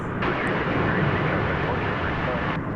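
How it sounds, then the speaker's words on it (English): A Qatar Airways Boeing 777 jet at DFW at night makes a steady, loud, broadband roar for the whole stretch, with commentary faintly over it. "There's that Qatar 777, which is destined for Doha."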